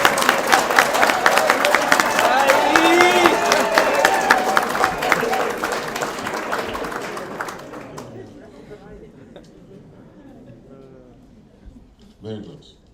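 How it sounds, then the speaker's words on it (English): A crowd gathered for a conversation with Zambian President Hakainde Hichilema claps and cheers loudly and densely, the applause mixed with voices, then tapering off into scattered claps and murmurs. "Now you can clap."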